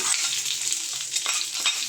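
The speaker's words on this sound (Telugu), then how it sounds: "ఈ పోపును మనం దాంట్లో వేయడమే" Hot tempering poured into Nellore-style coconut chutney, crackling with a bright, dense sizzle and spitting pops close by, steady throughout with no talking.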